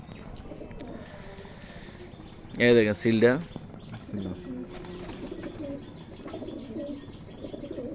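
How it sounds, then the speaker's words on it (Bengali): A male racing pigeon held in hand at a pigeon tournament coos softly and low, with chirping birds nearby and someone speaking briefly over it. "নর কবুতর"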